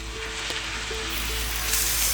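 A steak sears in a very hot cast iron pan in a wood-fired oven, giving a continuous, even sizzle and hiss with no voices.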